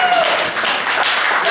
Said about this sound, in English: let's give a round of applause to this guy right here